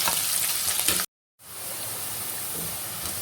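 Onions and curry leaves fry in a pan with a dense, steady hiss. It cuts out briefly near the middle, then resumes just as loud.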